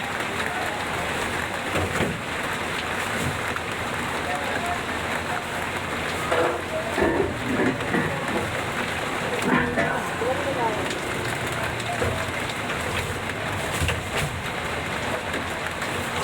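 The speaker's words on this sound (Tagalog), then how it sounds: "Ang ulan ay malakas na. Malakas ang ulan." Heavy rain pours down in a dense, steady hiss with scattered louder drops and faint background sounds throughout.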